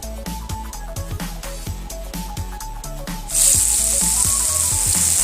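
Pineapple pieces roasting in coconut oil in a pan burst into a loud, steady sizzle after a stretch of background music, the hiss continuing unbroken to the end.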